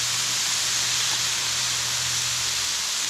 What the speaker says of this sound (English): Steam helps bring up all that old food and stuff off of there.